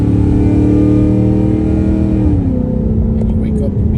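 A 2024 Mustang GT with Corsa Xtreme cat-back exhaust and Kooks long-tube headers drones loudly at cruising speed, its exhaust note deepening and rising as throttle is added, steady and close throughout.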